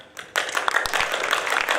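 Audience members in a large conference hall plenary session start clapping together, a sudden onset of many hands forming a steady, fairly close round of applause.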